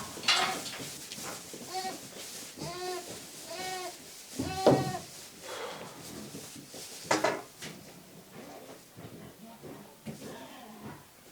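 Sheep bleating in a small pen, several wavering cries up close with a few short gaps between, mixed with a person's quiet talk and some light clatter.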